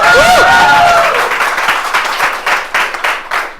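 Audience applause at a live storytelling show, starting loud with whistles and cheers, then thinning into scattered, uneven claps that fade toward the end.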